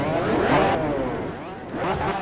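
A McLaren F1 engine revs hard on a mountain road in California in the Project CARS racing game, a steady loud mid-pitched roar that rises, then dips briefly near the end before building again.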